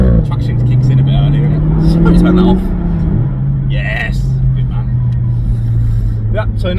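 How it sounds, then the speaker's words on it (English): A Jaguar F-Type 400 Sport engine drones loud and close under hard acceleration, its pitch rising, then dipping as traction control cuts power before holding steady, with people talking over it. "So look, it's the traction control system just killing it then."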